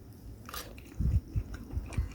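Close chewing and biting on semi-dried fried bluegill fish, several soft crunchy bites in an irregular rhythm, fairly quiet with no talking.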